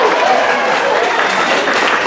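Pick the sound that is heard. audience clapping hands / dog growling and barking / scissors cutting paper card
audience clapping hands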